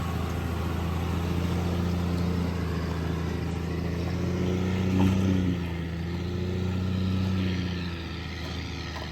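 A truck climbing a steep hill on a Lake City, Colorado off-grid property while hauling batteries, a steady low engine drone with a slight swell midway, constant and fairly close with no talk.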